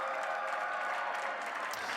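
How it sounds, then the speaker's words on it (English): Sustained applause rings out on the floor of the New York Stock Exchange ahead of the opening bell, an even wash of many hands clapping at moderate distance with scattered whoops on top. "the applause is underway at the New York Stock Exchange"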